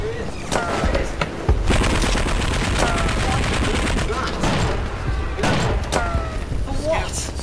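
Rapid bursts of gunfire from a gun rattle loudly and close, rolling in dense volleys across the whole stretch with scattered louder cracks.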